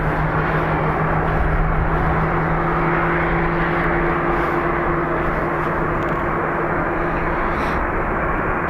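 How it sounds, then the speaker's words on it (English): Ryanair jet FR 1964 taxiing at Dublin Airport: a steady, loud engine roar with a continuous low hum and two sustained droning tones, unbroken throughout and no voices. "FR 1964, taxiing now"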